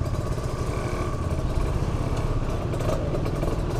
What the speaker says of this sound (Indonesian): Itu kayaknya ada motor dari kiri.